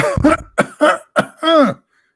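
A series of five hoarse, forced coughs close to the listener, uneven in spacing, the last one drawn out and raspy.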